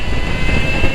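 An electric vehicle fitted with a liquid-cooled Far Driver controller pulls away under hard acceleration in first gear, a steady loud whine with road and wind rumble, close and continuous.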